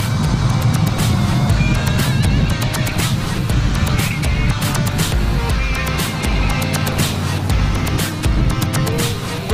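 A Mercedes-Benz McLaren SLR Stirling Moss driven hard on a track, its loud engine roaring steadily, with clicks and wind rush from inside the open cockpit.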